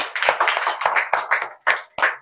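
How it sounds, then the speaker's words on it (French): A small audience applauds the team at a cooking event in Dakar, Senegal, with scattered, irregular bursts of close hand claps separated by short gaps and no talking. "On applaudit toute l'équipe."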